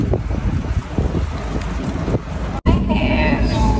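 Strong wind blows outdoors, buffeting the microphone with a constant low roar and gusty rumble, briefly cutting out before resuming just as loud.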